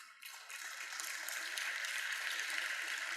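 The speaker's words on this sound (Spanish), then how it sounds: "Le damos un aplauso al Señor." A church congregation applauds for the Lord, a steady wash of many hands clapping that swells in after a quiet start and holds evenly at a moderate distance, with no voices over it.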